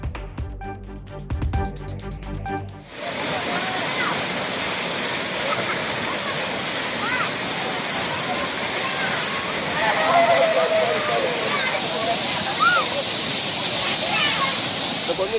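Agasthiyar waterfall near Ambasamudram, with tourists and families bathing. A loud, steady roar of falling water fills the scene after a brief lead-in of other sound and carries on unbroken with faint splashing.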